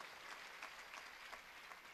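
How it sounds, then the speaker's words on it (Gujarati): An audience at a community festival gathering claps to honor the volunteers, steady, dense applause throughout, heard from a distance and fairly faint. "આખા સમાજ તરફથી એમને એક વખત જોરદાર તાળીથી સન્માન કરો"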